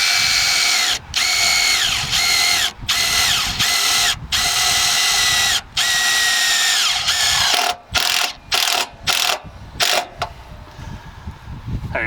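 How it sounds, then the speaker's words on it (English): A power drill whirs loudly in repeated bursts, pitch rising as each self-tapping screw drives into a caravan chassis rail, then stops and starts in quick short pulses toward the end. "and then you just screw it, I'm just screwing straight into our chassis rail"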